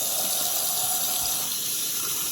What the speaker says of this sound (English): I turned the water on